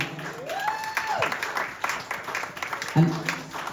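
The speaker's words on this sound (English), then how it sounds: "give the children a round of applause" Audience applause for a children's Bhakta Prahlad devotional play, a steady wash of clapping with voices talking over it and a rising whistle-like tone early on.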